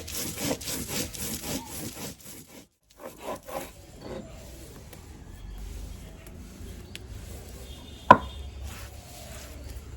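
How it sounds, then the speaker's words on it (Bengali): Pepper, cumin, radhuni and an inch of ginger are ground together into a spice paste, with rhythmic rough rubbing strokes at first, then a quieter scraping grind and one sharp click. "এবার এই বাকি মশলাগুলো নিয়ে বেটে নেবো সব একসঙ্গে"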